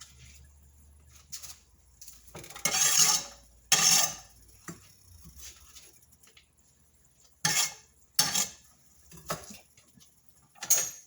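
A knife cuts and trims potatoes on a cutting board in a home kitchen, making a series of sharp, close chopping taps in short irregular bursts with quiet pauses between.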